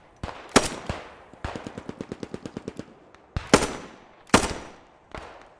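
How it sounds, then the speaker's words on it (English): Gunfire in the video game Post Scriptum, a British airborne assault on Doorwerth: loud single rifle shots punctuated by a rapid rhythmic burst of automatic fire, with several sharp near reports, no talking. "You're getting shot at from a couple places."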